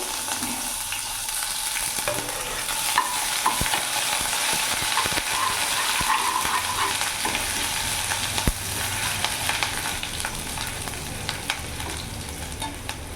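Grated ginger fries in a pan with a continuous bright sizzle, punctuated by scattered clicks and scrapes of stirring, close and fairly loud, without speech.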